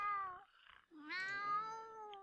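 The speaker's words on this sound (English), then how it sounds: "Meow, meow, meow." Cat meowing in The Sims 2, a sequence of drawn-out, tonal meows rising and falling, clear and close with a brief gap between calls.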